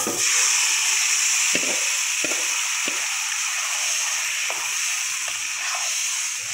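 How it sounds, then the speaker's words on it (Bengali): Dal batter poured into hot oil with turmeric, frying with a steady loud sizzle and hiss, plus occasional soft stirring knocks and scrapes, close up, with no voices. "এখন আমি এই ডালের ব্যাটারটা ঢেলে দেবো।"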